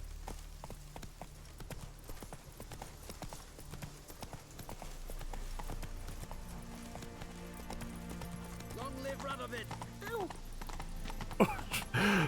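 Roach the horse gallops in The Witcher 3, a quick rhythmic clip-clop of hooves running steadily throughout, with someone talking over it and a brief snort near the end.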